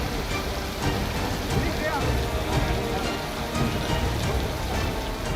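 Heavy rain pouring in Chitradurga, Karnataka, a dense continuous hiss of drops striking surfaces, steady and fairly loud with no breaks.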